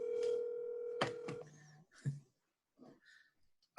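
Telephone call placed on speakerphone, with ringing and dial tones coming through a phone speaker in a quiet room, short tonal bursts separated by pauses.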